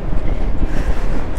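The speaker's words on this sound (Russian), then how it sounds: "штормовый ветер боковой" Strong stormy crosswind roars across a seaside beach, buffeting the microphone with loud, gusty rumble and no pauses, rough surf churning behind it.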